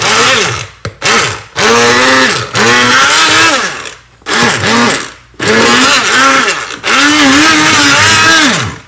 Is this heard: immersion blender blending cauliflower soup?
yes